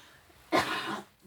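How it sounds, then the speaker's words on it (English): A single short, harsh cough, close and fairly loud, followed by a brief rasp and quiet room tone. "Excuse me, coughing."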